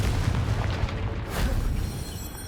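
Confringo explosive curse from the Hogwarts Legacy game, a loud rumbling fiery blast with a dense roaring burst and a second swell before fading, heard alone with no talk.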